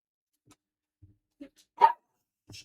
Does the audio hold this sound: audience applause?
no